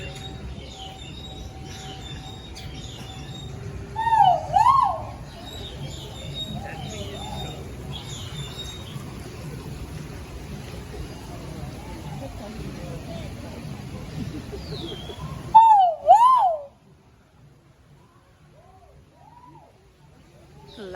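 A loud bird calls in an aviary at Disney's Animal Kingdom, sharp warbling bursts standing out twice above crowd chatter and ambient noise, with a person talking for much of the time.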